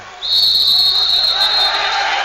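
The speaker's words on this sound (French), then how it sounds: "apparemment que sifflent les arbitres" A referee's whistle shrills loud and steady for about two seconds at a 1998 European Championship handball match between Yugoslavia and Sweden, over a dense arena crowd roar.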